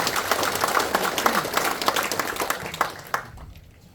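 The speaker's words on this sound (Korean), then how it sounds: "박수 좀 부탁드립니다." An audience claps at a Korean ceremony and report meeting for a presidential statue, a dense burst of clapping that thins out and stops after about three seconds, moderately close.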